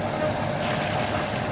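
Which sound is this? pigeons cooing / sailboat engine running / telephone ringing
sailboat engine running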